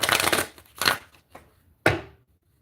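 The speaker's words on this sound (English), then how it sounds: "I'm trying to shuffle the cards and it's coming out." Tarot cards being shuffled by hand in a few quick riffling bursts, the last one sharp and close, with short pauses between and no talking.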